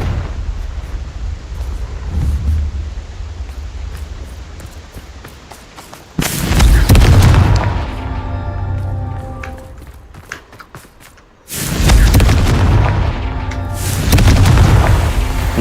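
Confringo fire spell explosions in the Hogwarts Legacy video game, two loud booming blasts a few seconds apart, each with a long rumbling, crackling tail that gradually fades.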